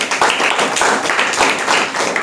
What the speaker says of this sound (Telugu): గట్టిగా చప్పట్లు కొడు దేవుని మహిమ పరుద్దాం.